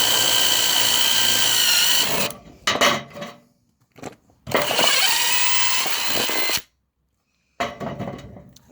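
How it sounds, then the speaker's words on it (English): A power drill with a 3/4-inch step bit cuts through the bed of a Toyota Tacoma pickup truck in loud, whining bursts, with a few short stops and restarts between runs. "So what I use is this step bit that goes out to 3/4, and you'll just drill all the way through"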